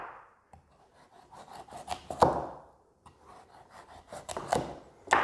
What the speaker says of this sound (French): On vient aider notre couteau à percer. On fait des tranches.